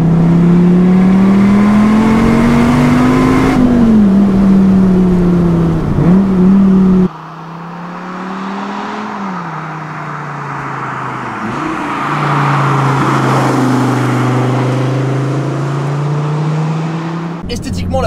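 An SRT Viper GTS roars under load, its deep, muffled engine tone rising and falling through gear changes, loud and close as the car drives, with a brief cut partway through.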